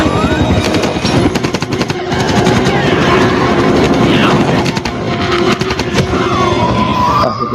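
A helicopter arrives during a zombie outbreak film scene, loud close rotor chopping in rapid rhythmic pulses layered with engine roar and chaotic action noise.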